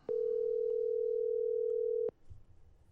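A steady telephone dial tone holds for about two seconds with clicks at its start and end, heard while a phone call is redialed after a dropped connection; faint background noise follows once it cuts off.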